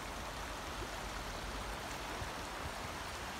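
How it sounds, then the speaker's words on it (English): River water flowing steadily through Witton Park in Blackburn, a continuous broadband rush heard close and alone without pause. "And look at the river there."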